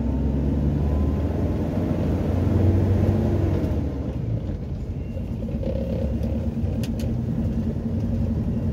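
A car labouring in first gear over a rough, potholed rural road, with a steady loud engine roar and drivetrain rumble, rattles and creaks from the cabin throughout.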